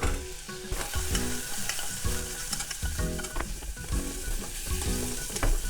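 Frozen edamame frying and being stirred in a pan, a steady bright sizzle broken by scraping and clacking stir strokes, close and loud with no talking.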